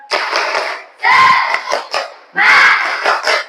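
Schoolchildren in a classroom shout a loud group spirit chant in three bursts, with clapping mixed into the crowd noise.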